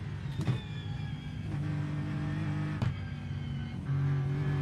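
An Aston Martin GT3 race car's engine in iRacing at Spa, a steady in-car drone with pitch rising and falling through gear changes, a few sharp shift clicks, no talking.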